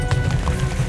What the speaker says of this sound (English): Se me está cansando el caballo.